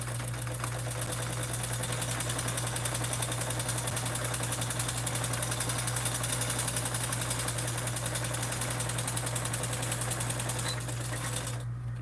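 A sewing machine runs steadily while stitching a bag lining at a 5/8 seam allowance, a fast continuous mechanical whir with rapid needle ticking, close and loud, ending with a brief stop.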